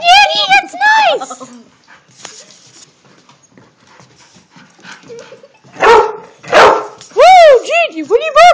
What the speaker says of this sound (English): Whoa, Gigi, what are you barking at, dude?